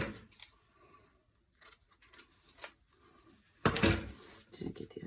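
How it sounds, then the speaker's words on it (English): Scissors cutting the edges of spring wreath material, several short crisp snips spaced apart at close range, with one louder rustling clip toward the end and quiet room noise between. "Cut the edges."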